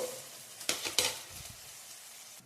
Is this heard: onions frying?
yes